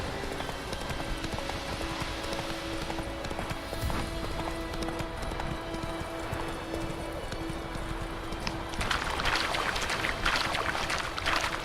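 Horse hooves clip-clop at a steady galloping rhythm in The Witcher 3, moderately loud over a busy game soundscape of ambient noise, with no talk.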